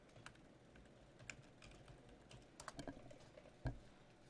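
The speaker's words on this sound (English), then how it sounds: "type in Movie Maker." Light, scattered keystrokes on a computer keyboard, quiet and close, with irregular taps and a slightly heavier key press near the end.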